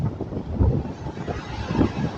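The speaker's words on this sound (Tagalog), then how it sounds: "tumindi pa yung lakas ng hangin" Strong, gusty monsoon wind (habagat) after Typhoon Inday buffets the microphone beside a boat on rough sea. It makes a continuous loud rumble that swells and eases, with no voices.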